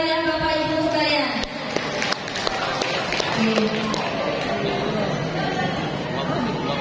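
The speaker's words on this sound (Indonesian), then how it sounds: "Sekali lagi tepuk tangan yang meriah Bapak Ibu sekalian." An audience at a village qasidah rebana contest applauds after a Lebaran qasidah performance. Brisk clapping mixes with crowd chatter and babble across the room.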